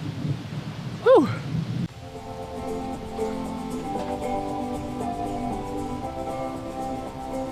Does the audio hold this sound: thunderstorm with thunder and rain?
yes